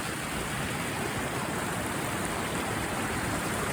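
Creek water rushes in a constant, close, broad wash of flowing sound, even and unbroken throughout, with no voices.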